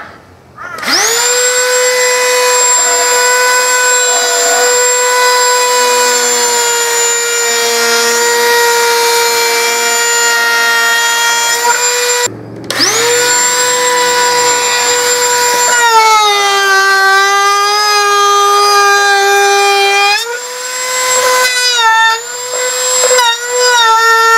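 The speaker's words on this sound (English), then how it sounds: "I'm just going to run a route around the outside now just to tidy it up." A wood router trims around the outside edge of a handmade medieval-style wooden sewing box. It gives a loud, high, steady whine that cuts out briefly midway, then restarts with shifting pitch as it works along the edge.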